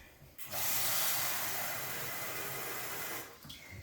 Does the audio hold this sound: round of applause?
no